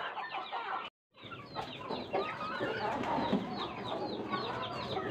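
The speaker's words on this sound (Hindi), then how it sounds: "बीच में चूजे भी खा रहे हैं, बड़ी मुर्गियाँ भी खा रही हैं" Farmyard chickens and small chicks cluck and peep steadily while pecking at scattered grain, a busy close chorus with one brief gap of silence near the start.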